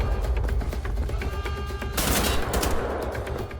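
Rapid automatic assault rifle fire in the video game Wolfenstein: The Old Blood crackles as a dense, continuous volley, growing sharper and louder midway, with no voices over it.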